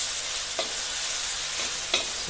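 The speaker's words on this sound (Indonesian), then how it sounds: "Kita tumis dulu ya." Ingredients for nasi goreng stir-frying in a hot pan, a steady dense sizzle throughout with a few soft scrapes of the spatula stirring, close and even in level.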